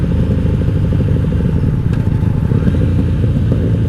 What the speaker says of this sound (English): Clutch just downshifting just fine.